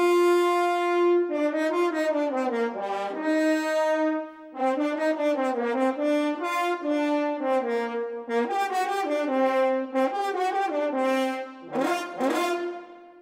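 French horns in an orchestra play a sustained, mellow melodic passage of held and moving notes, loud and clear with no talking.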